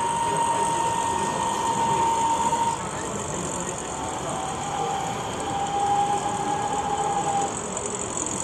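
A 1:32 Gauge 1 model train hauling a freight load runs on a modular layout, giving a steady, continuous mechanical whir with a thin tonal whine, close and alone without talk.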